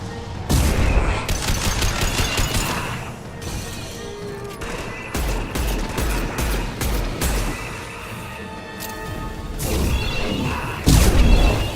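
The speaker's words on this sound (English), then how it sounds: "Concussive shot ready." A concussive shot ability fires during Mass Effect combat amid a barrage of loud gunshots and booming impacts, with volleys rising and falling and a heavy blast near the end.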